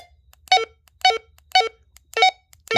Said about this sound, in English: So when beep's on,